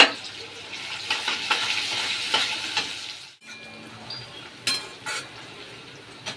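Onion frying in a pan for a Bengali mutton curry, a steady close sizzle with stirring scrapes that breaks off midway, then quieter crackle with a few clinks.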